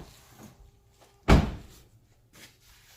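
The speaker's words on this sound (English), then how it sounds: "Look at the door gaps. Closes nicely." A replacement door on a Mazda3 car swings shut with a single solid thunk, alone in a quiet garage.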